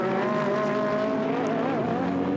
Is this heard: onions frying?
no